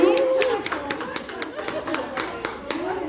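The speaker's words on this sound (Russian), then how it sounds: "аплодисменты друг другу" An audience at a Russian bloggers' evening event claps for one another, scattered sharp claps at moderate distance mixed with a voice talking at the start.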